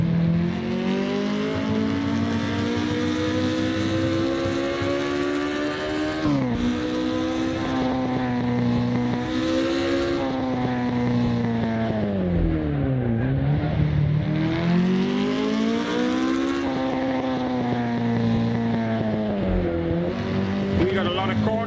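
American muscle car racing in Assetto Corsa, engine revving loud and continuous as it rises and falls through gear shifts and corners with occasional tire squeal, a voice talking over it.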